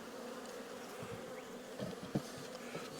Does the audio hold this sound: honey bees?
yes